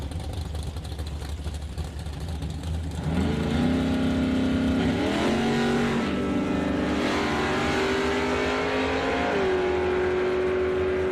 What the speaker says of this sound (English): Paired up against Mike Stewart, 67 Chevy 2 with a 421 stroker.